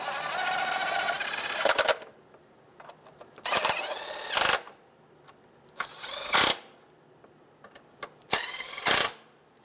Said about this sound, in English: And we can go ahead and tighten these down.